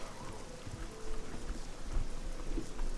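Steady rain with rumbling thunder in the game Oblivion, a dense continuous wash of downpour with low booming swells that grow stronger through the second half, heard alone with no talk.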